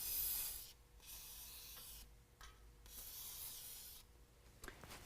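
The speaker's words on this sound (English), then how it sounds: "we're also going to go through and spray all of our hangers with some WD-40" WD-40 sprayed onto the exhaust hangers of a 2017 Ford F-150 during an exhaust install, heard as several separate hissing bursts, steady and fairly close, with short pauses between them.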